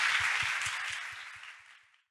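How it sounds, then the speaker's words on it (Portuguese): Crowd applause at an airline careers event in Brazil, a dense wash of clapping with some low thumps, fading out over about two seconds with no voices. "Uma salva de palmas para vocês."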